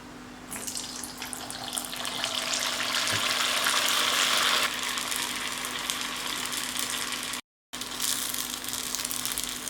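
Orange kevum batter balls deep-frying in a pan of hot oil, a steady loud bubbling sizzle that swells in the middle and then settles, with a brief dropout near the end.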